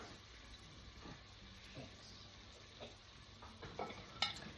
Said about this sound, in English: just gonna let the masala to cook for about a minute apart